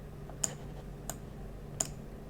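Three sharp, quiet middle mouse button clicks spaced apart over a faint steady hum.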